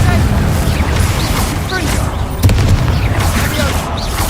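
Confringo spell blasts thump and crackle in Hogwarts Legacy over a constant roar of game noise, with one sharper impact midway. A voice talks over them.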